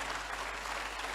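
Applause from an audience celebrating the organizers of a motivational event, a steady dense wash of clapping heard alone and fairly distant throughout.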